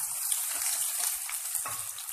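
Finely chopped onions fry in a pan for baingan bhurta, giving a steady, close, bright sizzle with faint stirring clicks underneath.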